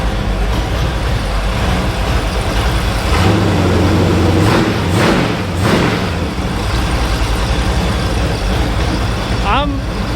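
A small block Chevy engine with a carburetor idles steadily on a run stand. It makes a constant, loud drone throughout, and people talk briefly over it.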